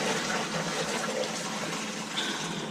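Water steadily gushes and trickles as it drains from a campervan tank, a soft continuous splashing flow with no talk.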